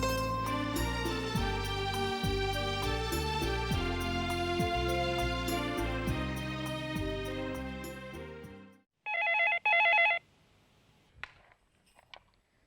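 A telephone in a home rings in two short electronic bursts right after background music stops, clear and close in an otherwise quiet room.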